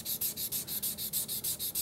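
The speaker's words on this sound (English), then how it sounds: "sand those areas by hand," Hand sanding a wood spindle on a stopped lathe, sandpaper worked along the grain: a quick, even run of about eleven rasping strokes, close and steady.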